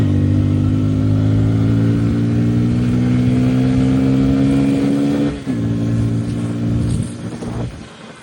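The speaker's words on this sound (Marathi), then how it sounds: "त्यामुळे थोडी गाडी पळवली." A car engine revs and accelerates hard for several seconds, its pitch climbing steadily, with a brief dip as the gear shifts before it pulls again, loud and close with no voices.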